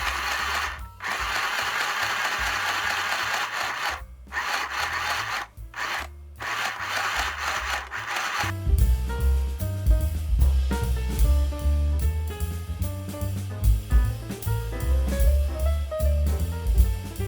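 After a few seconds of scraping and handling noises, a handheld mini sewing machine stitches a straight line through a piece of cloth with a rapid, buzzing mechanical chatter, close up and fairly quiet.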